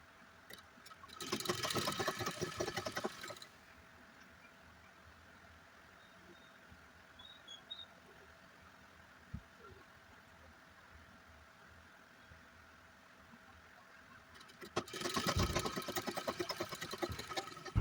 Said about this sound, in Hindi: एक बराबर सिलाई लगाते हुए काज पट्टी को बना लेना है।